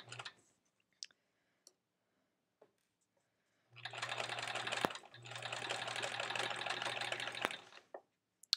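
Domestic sewing machine stitching quilt pieces, with a back tack: two sustained bursts of rapid mechanical stitching separated by a short pause, preceded by scattered clicks and handling noises, close and fairly loud.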